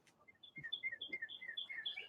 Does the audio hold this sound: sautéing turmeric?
no